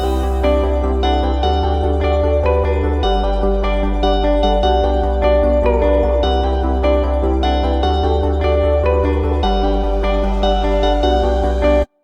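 Future bass track built in LMMS, with steady layered chords, a pulsing deep bass and a bright melodic lead, loud and continuous with no vocals.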